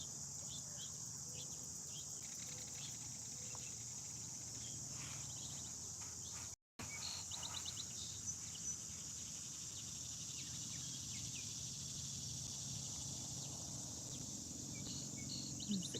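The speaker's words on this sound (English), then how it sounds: "Cicadas are already starting this morning." Cicadas drone steadily on a humid morning beside a river where people are fishing, a dense continuous high buzz running the whole time with faint scattered chirps beneath it and one brief gap of silence.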